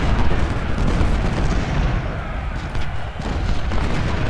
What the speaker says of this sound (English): This unit of howitzers needs to shoot at lane.